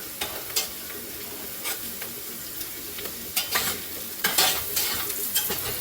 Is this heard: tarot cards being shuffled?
no